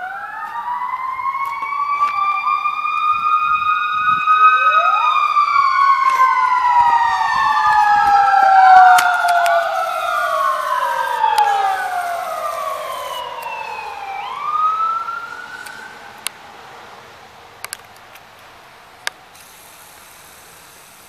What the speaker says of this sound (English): there were ambulances traveling down